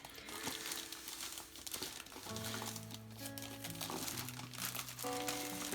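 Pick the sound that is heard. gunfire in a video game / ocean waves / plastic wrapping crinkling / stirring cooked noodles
plastic wrapping crinkling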